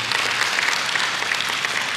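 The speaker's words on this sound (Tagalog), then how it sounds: "Wala bang palakpak sa Panginoon?" Steady applause from a church congregation, many hands clapping at once in a dense, even wash that holds for the whole stretch with no voices over it.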